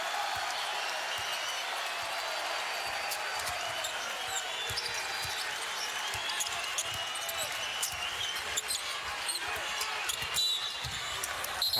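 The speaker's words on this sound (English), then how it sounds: "and the crowd roars" A basketball arena crowd at a Marquette at Providence game roars in a sustained, loud wash of cheering and applause that fills the whole stretch, with sneakers and a bouncing ball faintly beneath and a commentator talking.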